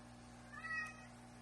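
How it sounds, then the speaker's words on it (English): A single short cat meow, faint and brief, rising over a quiet steady hum. "excuse my kitty cat, he is meowing."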